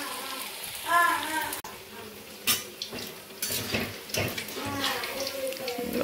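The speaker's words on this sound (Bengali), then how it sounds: "পকোড়া ভাজা কমপ্লিট হয়ে গেছে এখন আমার" Pakoras fry in a pan in a home kitchen, with a crackling sizzle under a few scrapes and clatters as the pieces are turned and moved about, close and moderately loud.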